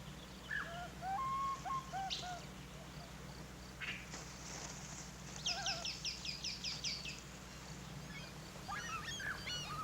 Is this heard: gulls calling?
yes